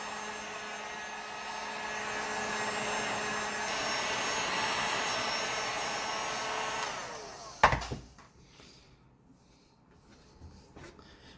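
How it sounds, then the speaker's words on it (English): A heat gun blows steadily while warming a plastic headlamp filler for a 1975–1976 Cadillac, a loud broadband whoosh that runs for about seven seconds and then cuts off with a sharp clack, leaving quiet handling noises. "using our handy dandy heat gun"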